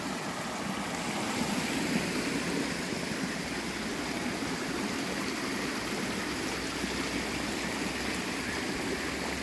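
A small brook flowing along a Camino trail in Galicia, a steady, even rush and babble of water that stays close and continuous throughout, with no voices over it.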